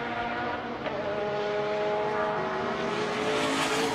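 A K-Tune Levine Motorsports Integra Type R race car on a hot lap at Circuit of the Americas: a loud, sustained engine drone with a rising pitch, close and continuous throughout.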